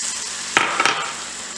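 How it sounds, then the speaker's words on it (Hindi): Paneer coated in paste frying in a pan, a close steady hiss of hot oil with a couple of sharp sizzling bursts as pieces go in. "सारा पनीर जो है हमने ऐसे ही फ्राई कर लेना है।"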